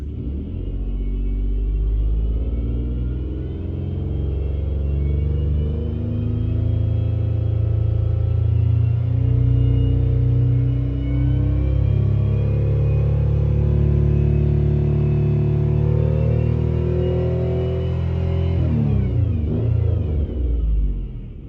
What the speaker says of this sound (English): All right, wide open throttle.